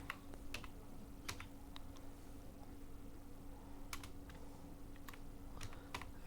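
The words 'thank you' are typed on a computer keyboard while working in Illustrator, a few scattered, faint keystrokes clicking over a quiet, steady room hum.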